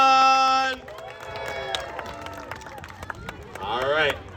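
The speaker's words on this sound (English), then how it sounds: "Let's get a big cheer out of Emily's section" A crowd at a pig race at the Sacramento County Fair, Cal Expo, murmurs and calls out after a loud sustained tone opens the moment, then swells into a brief burst of louder cheering near the end, with voices mixed throughout.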